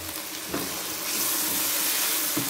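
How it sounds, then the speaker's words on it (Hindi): Tomatoes, ginger and garlic fry in a pan for matar pulao, giving a steady close sizzle with a few brief stirring scrapes, and the hiss grows louder partway through. "जब तक टमाटर भुनेंगे साथ में अदरक लहसुन भी अच्छे से फ्राई हो जाएगा"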